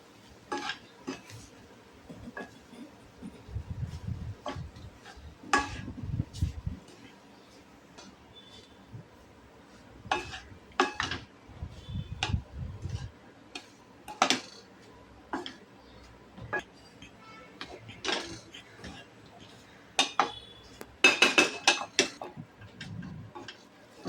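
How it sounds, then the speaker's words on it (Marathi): Grated coconut being roasted in ghee over low heat in a pan, marked by sparse, light clinks and taps of a spatula scraping the pan, with soft scraping stretches between; quiet overall. "तर हे खोबरं मंद आचेवर परतवून घ्यायचं"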